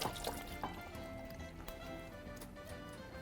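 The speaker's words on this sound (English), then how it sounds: "I'm just going to quickly rinse my hands." Hands rinse under running water in a kitchen during dinner preparation, a faint, close trickle and splash with small drips.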